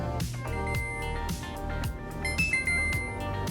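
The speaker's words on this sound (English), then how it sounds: "And the timer is done." An oven timer rings in a home kitchen as an apple pie finishes baking, giving a steady, fairly loud electronic alarm with bright tonal beeps that carry through the whole stretch, with no talking.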